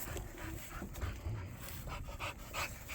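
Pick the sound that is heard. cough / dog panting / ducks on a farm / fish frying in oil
dog panting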